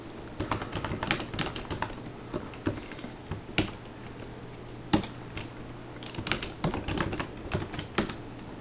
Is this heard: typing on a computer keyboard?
yes